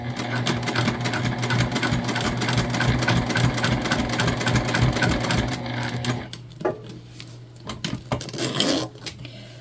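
Top stitching 1/8 inch from the edge of a quilted pouch on a sewing machine produces a loud, close, rapid rattling hum for about six seconds, then stops, leaving short stuttered bursts and handling noises.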